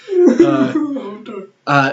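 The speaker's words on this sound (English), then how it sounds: "sorry for the coughing" A rough throat-clearing cough followed by a short hacking burst, close and loud, with no talking.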